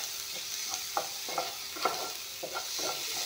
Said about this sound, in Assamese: বিলাহীখিনি ভালকৈ ভাজি ল'লোঁ।